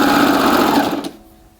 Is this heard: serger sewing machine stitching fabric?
yes